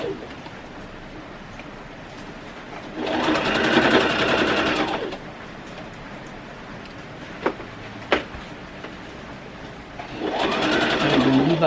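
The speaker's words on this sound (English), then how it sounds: "And we're going to continue sewing this dart" A sewing machine stitches a dart on a red zip-front jumpsuit in two bursts of steady whirring, a longer run and then a shorter one near the end, with quiet handling clicks in between.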